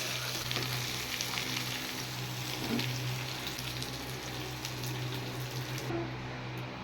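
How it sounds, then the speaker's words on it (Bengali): Young jackfruit pieces sizzle steadily in hot oil as they are lightly fried, a continuous close crackle with a low kitchen hum beneath and no talking. "এঁচড় হালকা ভেজে নিয়েছি এবার আমি এঁচড়গুলো নামিয়ে দেব"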